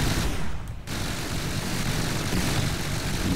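A rapid-fire flak cannon turret blasts continuously in the From The Depths game, a dense, loud roar of overlapping shots with a brief dip near the start, no voices heard.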